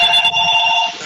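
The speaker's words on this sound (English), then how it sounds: "I got a phone ringing here" A telephone rings loudly during a live radio-style news broadcast, a steady electronic bell tone held for about a second before trailing off.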